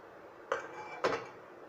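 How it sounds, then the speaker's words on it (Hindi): Corn kernels dropped into a bowl give two short, faint clinks about half a second apart in a quiet kitchen. "अब हम एक बाउल में ये मक्के के दाने डालेंगे"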